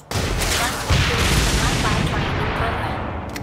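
A Stinger missile launches in the shooter game Blacklight Retribution, with a loud whooshing, rumbling blast that holds steady and slowly fades over a few seconds, a voice faintly underneath.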